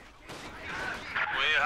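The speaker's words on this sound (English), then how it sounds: "AT grenade does hit the half-track" An anti-tank grenade strikes a half-track in Company of Heroes 2, giving a sharp game explosion that rises and swells over its short length, with a commentator talking underneath.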